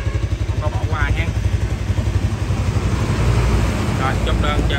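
A motorcycle engine idles steadily and quietly up close, a continuous low throbbing hum with some outdoor wind noise and faint clatter throughout.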